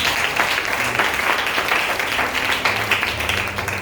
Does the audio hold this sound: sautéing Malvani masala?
no